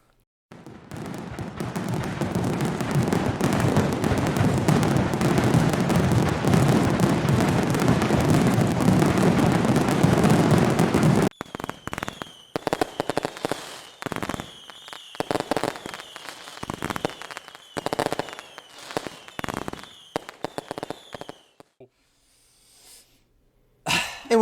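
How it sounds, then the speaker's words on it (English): Fireworks crackle and roar in a dense, loud barrage for about eleven seconds, then give way to scattered sharp bangs and pops with brief gaps, fading out toward the end. "we're back from those beautiful fireworks"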